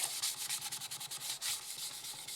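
Abrasive sanding on an English walnut bowl with soft, punky wood, done by hand with a foam pad, gives close, steady rhythmic rubbing strokes in quick succession and nothing else.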